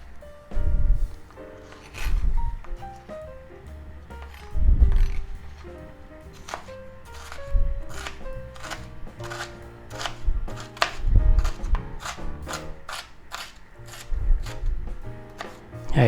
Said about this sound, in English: We'll chop it up fairly fine.